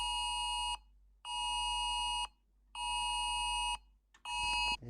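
A United Kingdom emergency alert sounds on a phone, a harsh buzzing tone in long pulses of about a second, four in a row separated by short silences, loud and close.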